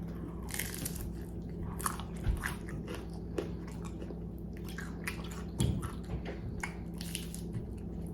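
Crisp bites and chewing on crunchy fried taco shells filled with chicken, tomato, avocado, onion, cilantro and cheese, a few close, quiet crunches scattered over a faint background.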